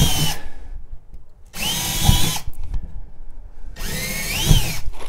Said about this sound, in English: I like to pre-drill.